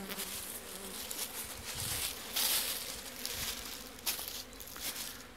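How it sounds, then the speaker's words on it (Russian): Altai honeybees buzz faintly and continuously around hives at an apiary, a soft steady hum with occasional closer passes swelling briefly. "Алтайские пчелки мои"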